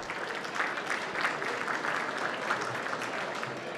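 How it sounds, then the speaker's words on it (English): A crowd claps steadily for a few seconds, a dense even patter of applause. "Round of applause to Tim Fenimore."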